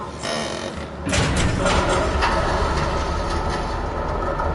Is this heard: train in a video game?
yes